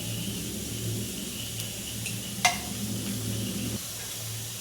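Cumin seeds sizzling in hot oil in a pan, a steady soft crackling hiss heard close, with a single sharp clink partway through.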